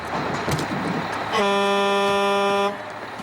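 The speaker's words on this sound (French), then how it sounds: "Vas-y, klaxonne, Walter." A single sustained car horn blast, loud and close, holding steady for about a second over faint background noise.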